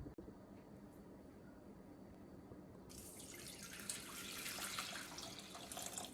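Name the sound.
pouring water into a pot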